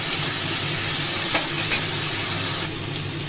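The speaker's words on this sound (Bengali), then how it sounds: "পেঁয়াজ বাটাটা দিয়ে একটু কষাবো।" Onion paste frying in a pan, a dense, steady sizzle close by with faint stirring scrapes, easing slightly near the end.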